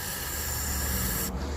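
Mass airflow sensor cleaner sprayed from an aerosol can under the hood of a 2002 Cadillac DHS with a 4.6 engine, a steady close hiss lasting over a second before it cuts off.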